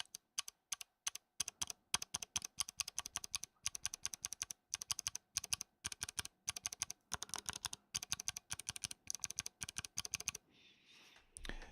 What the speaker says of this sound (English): These right here on the micro version 2, these are the clicky ones.